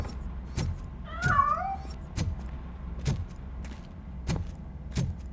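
A cat in the Robocop: Rogue City video game gives one short meow, heard amid a series of evenly spaced dull thumps like footsteps in a quiet interior.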